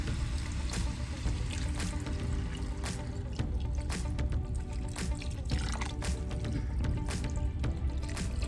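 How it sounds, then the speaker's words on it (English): Sauce is poured steadily into a pan of chicken and broccoli, a continuous close liquid rush with small splashes and drips and no talking. "I'm just going to pour the sauce all around."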